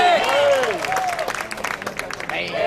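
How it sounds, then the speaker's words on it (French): Audience applause and cheers for a boules player during a 1000-boules shooting challenge in Canada, a steady crowd wash with some voices mixed in and a loudspeaker tone sweeping through. "On l'applaudit bien fort"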